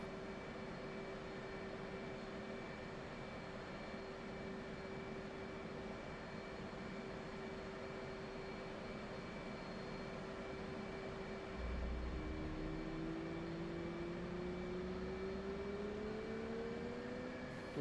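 An F/A-18 jet engine idles on a carrier in the DCS flight simulator, a faint, steady whining drone with tonal hums, and a rising pitched whine sweeping up in the last few seconds.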